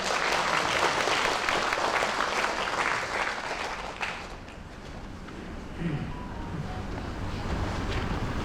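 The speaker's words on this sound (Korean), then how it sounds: "환영의 박수로 모시겠습니다" Welcoming applause for a chairman at a lecture event fills a hall loudly at first, a dense roar of clapping that thins and fades toward the end.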